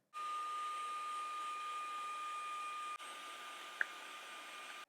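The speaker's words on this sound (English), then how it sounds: "Just vacuum and brush at the same time, removing all the dust, lint and fluff." Steady whine of a small vacuum with a brush attachment cleaning dust, lint and fluff from a Passap knitting machine, running continuously with a brief dip partway and a small click near the end.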